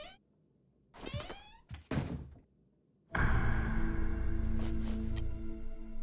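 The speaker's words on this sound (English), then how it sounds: "Close the door, Corey." A door in a kids' cartoon closes with a single solid thunk after a few scattered movement sounds, followed by a sustained, loud, droning tone.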